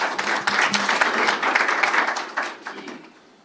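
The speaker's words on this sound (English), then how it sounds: "Applause" An audience at a mountain run launch event claps in a steady burst of applause that holds for a few seconds, then fades away toward the end.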